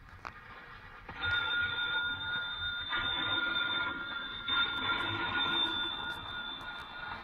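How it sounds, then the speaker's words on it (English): A telephone bell rings in an old lighthouse with a continuous metallic trill, loud and persistent, briefly pausing and resuming, after a quiet start with a faint click. "Phone bells ringing urgently in the dimness of the old lighthouse."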